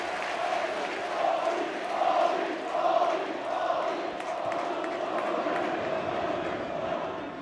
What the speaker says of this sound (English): that's got the crowd on their feet